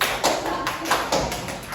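Classroom of pupils doing the 'tepuk semangat 1' clapping chant, several rhythmic bursts of group claps in quick succession, moderately loud and close.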